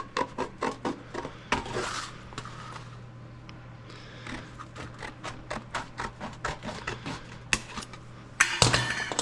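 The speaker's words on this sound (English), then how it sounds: "Now we'll go ahead and cut this corner out, just using our straight tin snips here" Straight tin snips cut a corner out of sheet-metal ductwork for a 90-degree fitting, giving a series of close, sharp metallic snips and crunches in an irregular rhythm, with short pauses between cuts.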